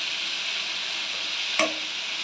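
Pumpkin and chickpeas sizzle steadily in a pan as a spatula presses down on them, with one brief scrape or knock partway through; no one speaks.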